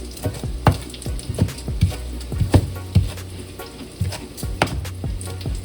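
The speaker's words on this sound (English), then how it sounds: "while the bacon is cooking" Bacon frying in a pan sizzles under a steady crackle, with a series of sharp pops and clicks of stirring at an irregular pace, close and fairly loud.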